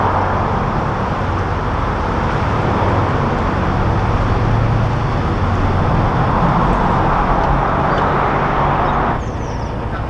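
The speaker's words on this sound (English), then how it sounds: "I'm just passing under the very busy M61 motorway at this point, and it was such a relief to get away from the noise of the traffic" Heavy, busy motorway traffic on the M61, heard from a narrowboat passing beneath it, a loud, constant roar and rumble of vehicles that drops away slightly at the very end.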